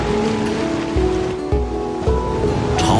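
Sea waves surge and break along a tidal shoreline. Steady, loud surf fills the whole stretch, with rhythmic swells washing in about every half second to a second.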